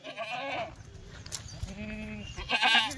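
Goats in a livestock pen bleat loudly nearby, a wavering call at the start, a lower drawn-out bleat in the middle and another harsh cry at the end, with farmyard background noise throughout.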